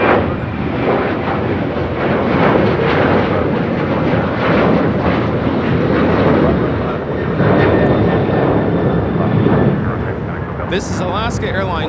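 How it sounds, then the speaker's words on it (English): An Alaska Airlines Boeing 737-900ER jet takes off at LAX, its engines roaring loud and rumbling throughout with a faint whine, easing near the end as a brief sharper noise cuts in. "This is Alaska Airlines 1406 taking off to Manzanillo on a 737-900ER."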